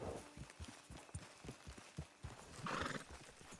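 In the video game Red Dead Online, a horse's hooves clip-clop in a steady walking rhythm, then a loud whinny breaks out near the end.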